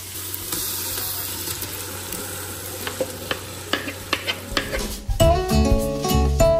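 Milk-and-curd-marinated chicken goes into a hot pan for biryani, with a soft sizzle and scattered spoon clicks building into a louder, wetter crackle and clatter near the end.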